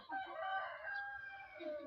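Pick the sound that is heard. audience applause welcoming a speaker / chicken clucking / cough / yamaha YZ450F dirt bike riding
chicken clucking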